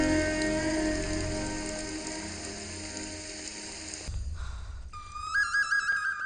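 Rain falls in a dense, steady wash, and then gives way abruptly to mechanical clicking and tonal beeps near the end.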